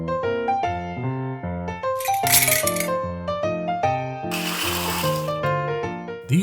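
Small metal binder-style paper clamps of assorted sizes clink and clatter as they are handled, in two brief rattling bursts over steady background music.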